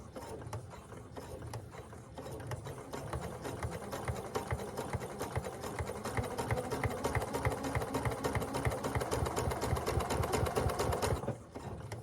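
A drop-in bobbin sewing machine stitches fabric at a slow, even pace, its needle mechanism clattering in a steady close rhythm that picks up slightly before stopping near the end.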